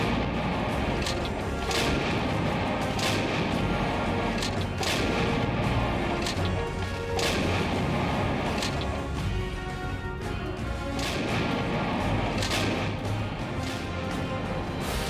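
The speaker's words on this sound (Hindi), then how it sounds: "दोनों पक्षों के बीच लगातार बिना रुके कई दिनों से गोलाबारी हो रही है" Repeated heavy artillery booms and sharp blasts from shelling in the Kargil war at irregular intervals against a constant rumbling background, some close and loud, others more distant.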